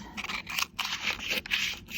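Scissors cut through a large piece of washi tape during card making, a close series of crisp snipping and scraping strokes with short gaps between them, no voices.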